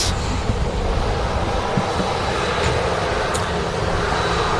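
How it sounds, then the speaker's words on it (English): A TUI Dreamliner airliner departing Manchester Airport makes a steady, broad jet roar, constant and fairly distant, with no voices over it. "there's another TUI Dreamliner on the way out"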